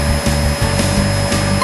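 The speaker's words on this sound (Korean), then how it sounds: "진공 청소기 소음" A vacuum cleaner runs loud and close, a steady motor roar with a high whine and slight pulsing in its low hum, no voices.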